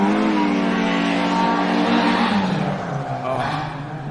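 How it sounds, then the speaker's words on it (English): A rally car with a Ford BDA engine at the Rally of Otago in New Zealand, revving hard and loud as it passes close by, its pitch dropping away as it recedes, with a voice briefly heard under the engine. "Just the lovely sound of a BDA."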